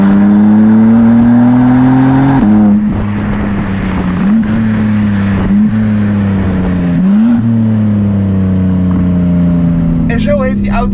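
A 2023 BMW M3 CS sports car engine revs hard and accelerates close up, its pitch climbing through several quick gear shifts, with someone talking excitedly over it.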